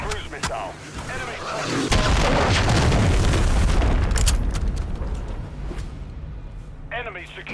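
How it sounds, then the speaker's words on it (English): A cruise missile strike in the Call of Duty video game lands as a loud, sustained boom and rumbling blast that swells and fades over several seconds, with game radio chatter around it. "Launched a cruise missile."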